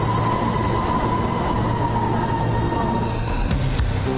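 A crowded subway train carriage at midday rumbles steadily while riding, with a constant low roar of wheels and motor and a faint high whine running throughout.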